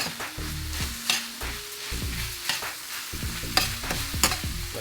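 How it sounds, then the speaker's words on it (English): Stirring taco filling in a hot pan, with repeated close scraping strokes of a utensil over a steady sizzle of frying meat and sauce, rhythmic and uneven. "And then we're gonna mix this in."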